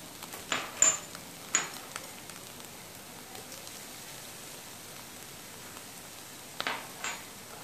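Onions with garlic and ginger paste fry in a pan, a soft continuous sizzle with a few sharp clinks of a spoon against the cookware.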